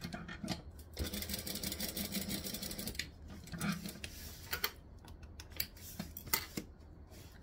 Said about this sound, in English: So I'm just going to stitch and back stitch just a little bit to reinforce that seam.